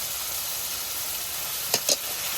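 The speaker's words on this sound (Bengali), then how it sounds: "রোস্টের তেলের মধ্যে পেঁয়াজ বাটা দিয়ে দিলাম আদা বাটা রসুন বাটা সামান্য একটু জিরা বাটা" Onion, ginger, garlic and a little cumin paste go into hot oil left from a roast, making an even, continuous sizzling hiss with two brief utensil clicks near the end.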